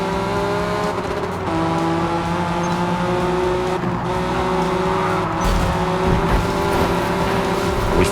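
A Honda NSX-R 05 at Michelin Raceway Road Atlanta in a racing video game, engine held at full throttle with a steady, loud, high drone and shifting tones, tire noise faintly underneath.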